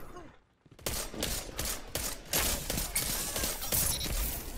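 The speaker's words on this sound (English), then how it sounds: "Someone was shooting from over here though." Rapid bursts of automatic gunfire crackle in the Destiny 2 video game at Caloris Basin on Mercury, dense and continuous after a brief lull at the start.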